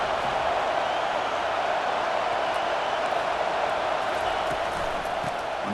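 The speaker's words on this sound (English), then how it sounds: "This crowd is trying to inspire this defense to make a big red zone stop." A stadium crowd in the EA Sports College Football 25 video game roars as a steady, dense wash of cheering noise, loud and continuous, urging the defense on during a red zone stand.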